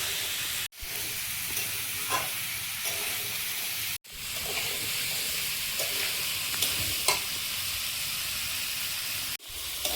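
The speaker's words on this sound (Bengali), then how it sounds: "সবজিটা কষিয়ে নিয়েছি" Potato, long beans, pumpkin and carrot are sautéed and stirred in a pan, making a loud, continuous sizzle with occasional scraping stirs and a few brief breaks, with no talking.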